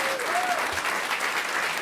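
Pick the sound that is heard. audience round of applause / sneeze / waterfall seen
audience round of applause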